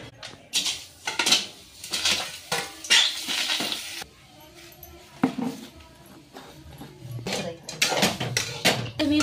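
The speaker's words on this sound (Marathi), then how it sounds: "तुम्ही बघा मी चिकन कढईमध्ये टाकलंय आणि थोडं वाफेवून करून घेणार आहे मी।" Chicken for biryani goes into a kadhai to steam: metal clanks, spoon scrapes and stirring clatter come in uneven bursts, with a faint sizzle between them.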